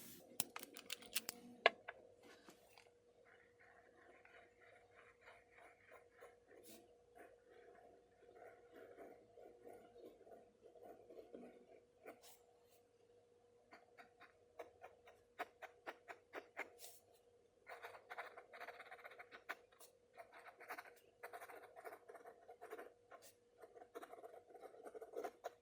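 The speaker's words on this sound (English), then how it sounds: "Just so you can see how smoothly this glides across the page, I'm going to do a really quick writing sample for you" A Benu x Goldspot Euphoria Hot Toddy fountain pen writes a quick sample on paper, giving close, faint scratchy strokes in irregular bursts with brief pauses and small taps.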